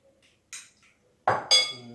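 Clootie dumpling mixture with apple and fruit being stirred in a bowl: a few close, sharp clinks of a spoon against the bowl, separated by short pauses, with a brief ringing tail.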